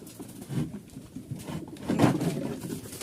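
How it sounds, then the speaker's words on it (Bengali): Pet pigeons coo close by in soft, low, rolling murmurs that swell and fade in a continuous stream, with no talk. "এই যে আমার কবুতর"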